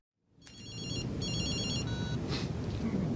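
A telephone rings in a scene from the TV drama Better Call Saul, with electronic trilling bursts repeating over a loud, dense background of noise and room sound.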